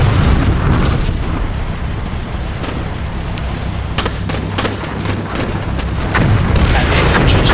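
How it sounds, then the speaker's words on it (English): Airburst artillery shells pound a wooded area in the Combat Mission Black Sea war game, a dense, continuous rumble of heavy booms and overlapping blasts, loud and unbroken throughout. "There's a lot of airburst munitions going in."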